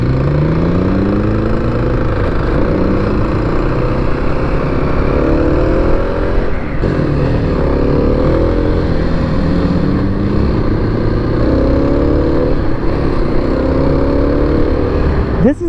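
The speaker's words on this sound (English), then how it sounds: "This has got a stock exhaust, so it doesn't sound good." A 2021 Kawasaki KLX300 dual-sport motorcycle with its stock exhaust runs steadily and loudly up close, its single-cylinder drone rising and falling through throttle changes over about fifteen seconds, with no pauses.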